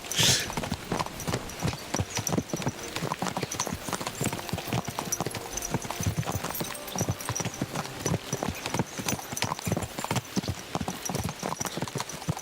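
Horse hooves canter through the countryside in the video game Kingdom Come: Deliverance 2, a close, steady rhythmic clip-clop that runs throughout at an even pace.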